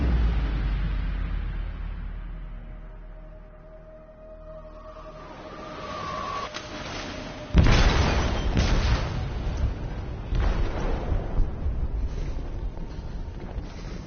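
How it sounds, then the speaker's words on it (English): In Detroit: Become Human, an explosive detonates in a ship's hold. A low rumbling build-up gives way to a sudden heavy blast halfway through, followed by a lingering roar and crackling debris. "They detonated an explosive in the hold."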